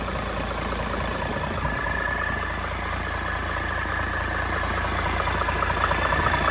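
A Cummins L375 diesel engine idles smoothly with a steady, even low rumble and hum, close by and continuous with no voices.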